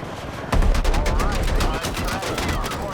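An anti-aircraft gun in Battlefield 6 opens fire with a loud, sudden burst, then keeps up rapid, sustained automatic gunfire with sharp repeated reports.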